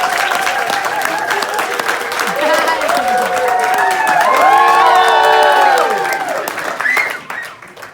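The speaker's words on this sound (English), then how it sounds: "that is loud and thunderous applause" Loud, thunderous audience applause with cheering and whoops from a large crowd, sustained for most of the stretch before tapering off at the end; many singing-like voices rise above the clapping.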